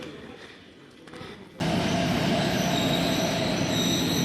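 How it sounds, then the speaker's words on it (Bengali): A goods train rolls past after a quieter lead-in, suddenly loud and close, with a steady roar of wagons and a high squeal from the wheels on the rails. "আর ট্রেন আসছে একটা"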